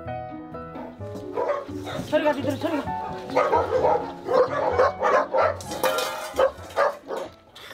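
Several dogs at an animal shelter bark, yip and whimper in overlapping bursts, loud and close, while someone speaks over them.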